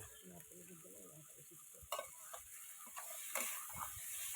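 Crab and chillies sautéing in oil in a pan for a coconut milk crab recipe, a soft sizzle under scraping and stirring knocks from a utensil, close and moderately quiet.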